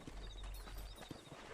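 Horse hooves clip-clop in the video game Red Dead Redemption, a short run of soft, close hoof thuds on a ranch at low volume, with no voices.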